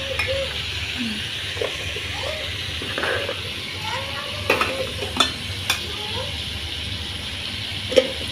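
A papaya and shrimp curry is stir-fried in a pan, giving a low continuous sizzle with occasional clinks and scrapes of a spatula while someone talks intermittently.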